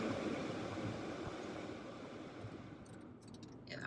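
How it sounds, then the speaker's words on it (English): A car's windscreen demister fan blows a steady, broadband airy rush inside the cabin while driving, constant and fairly loud throughout, with faint higher clicks near the end. "I'm going to have to put the fan on because my windscreen is steaming up a little"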